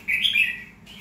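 A pet red-whiskered bulbul (chào mào) giving a single clear, loud, close chirp lasting under a second, alone with no talking.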